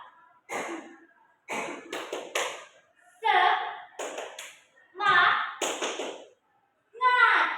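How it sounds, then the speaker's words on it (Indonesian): An eighth-grade class performs the rhythmic 'tepuk semangat' clapping chant, short bursts of patterned claps alternating with chanted voices in a lively call-and-response rhythm. "mari kita tepuk semangat ibu dulu ya"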